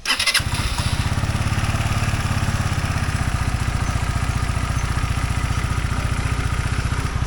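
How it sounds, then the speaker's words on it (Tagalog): Motorcycle engine starting after a fresh oil change, catching within a moment and settling into a loud, close, evenly pulsing idle left running to warm up and circulate the new oil. "painitin nyo ng mga 3 to 5 minutes ang inyong motor para mag-circulate yung oil"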